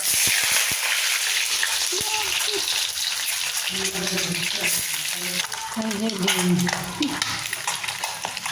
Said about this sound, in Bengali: তেল গরম হয়ে গেছে, এবার ডিম দিয়ে